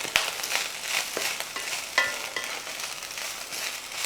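Dry powdered beef is stirred in a hot pan, a continuous soft sizzle broken by irregular scraping strokes of the spoon, close up with no voices.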